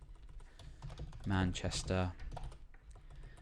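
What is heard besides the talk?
typing on a computer keyboard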